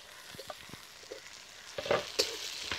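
Onion and tomato fry in a hot pan for prawn rice, crackling softly while a spatula stirs and taps in several short scraping strokes, close up with no talking.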